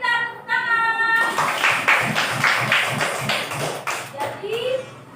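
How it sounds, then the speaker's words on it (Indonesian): Children in an Indonesian primary classroom clap together for a classmate who answered a question on preventing COVID-19, a dense burst of rhythmic hand claps lasting several seconds, with a teacher's voice before it and children's voices over it. "Iya, bintang tepuk tangan."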